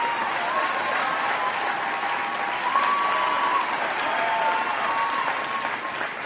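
A crowd claps steadily and continuously, a dense wash of applause that holds at an even, fairly loud level the whole time.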